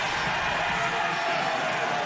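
A volleyball crowd in a gym cheers and roars continuously, loud and dense throughout, with no clear gaps.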